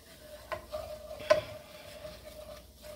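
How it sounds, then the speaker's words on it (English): A flour mixture is stirred in a pot, giving soft scraping and a couple of light knocks against the pot under a faint low sizzle, with the whole thing fairly quiet. "We're just gonna be stirring"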